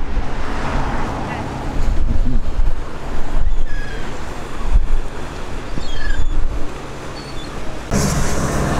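Strong wind at Lake Sevan batters the microphone in loud, gusting rumbles that rise and fall, with waves and faint background sounds underneath.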